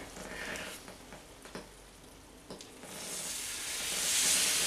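Hot syrup poured over fresh baklava, giving a soft steady hiss and sizzle that swells louder toward the end, with a few faint clicks and no voices.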